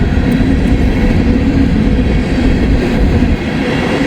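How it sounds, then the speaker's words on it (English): A train rumbles past close by near Wayne Yard, a loud, continuous low roar of rolling wagons with faint wheel clatter and no talk. "there should be a train behind him"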